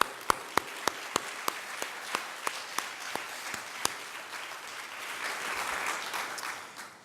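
An audience at an alumni awards ceremony applauds staff members, a steady wash of clapping with a few loud close claps standing out at the start, swelling slightly toward the end.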